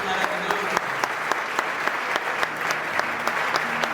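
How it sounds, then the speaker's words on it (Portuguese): A church congregation claps during a hymn-singing anniversary service, a steady burst of applause with some sharper individual claps standing out and a voice faintly underneath. "Vamos aplaudir a Ele."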